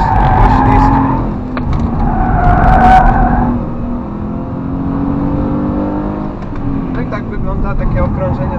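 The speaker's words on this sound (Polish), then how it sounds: "Tutaj też poślizg." A 2007 Subaru Impreza 2.0 with 160 hp skids through a corner on the Toruń race track, its engine loud and steady from onboard. Tyre scrub rises in bursts, and someone talks over it throughout.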